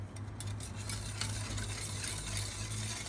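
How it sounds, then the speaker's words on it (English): Orange cake ingredients, sugar and liquid, are stirred in a pot over heat until the sugar dissolves, making a continuous close scraping swirl with a soft sizzling hiss underneath. "tapos combine lang natin yung dalawang ingredients, then stirring lang natin ito."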